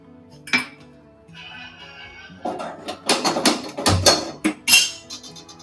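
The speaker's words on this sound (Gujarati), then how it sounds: "આ લોહી મૂકવાનો છે ગેસ ઉપર આપણે" An iron pan set down on a gas stove for making carrot halwa, giving a series of loud metallic clanks and scrapes, closely miked with no speech.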